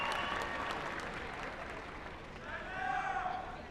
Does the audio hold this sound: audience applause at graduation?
yes